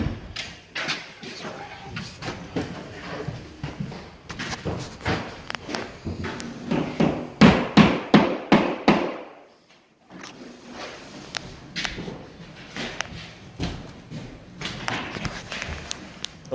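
A run of sharp, irregular knocks and thuds like hammering during drywall taping, building to a dense loud burst, a short pause, then more scattered strikes close by.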